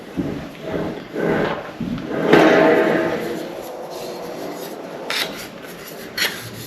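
Sheet metal rolled through an English wheel under light pressure, a close rasping, rubbing drone that swells and fades over several passes, with a few light knocks.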